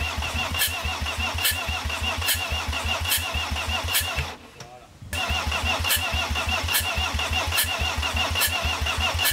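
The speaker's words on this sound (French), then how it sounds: "premier démarrage du moteur tout neuf." A newly rebuilt OM605 diesel engine on its first start, loud and close, with a steady rhythmic clatter that cuts out briefly partway through and then picks back up.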